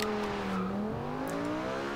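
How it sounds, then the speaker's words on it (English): Lamborghini Gallardo LP570-4 Superleggera launching hard in Forza Horizon 2, a loud steady engine drone whose pitch dips at the start and then climbs smoothly as the car accelerates, with no talking. "RPMs really dropped down on us on the launch"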